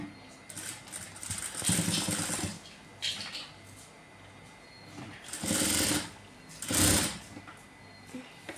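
A sewing machine stitches blouse fabric in three separate loud bursts of rapid whirring. Quieter handling sounds fill the pauses between runs.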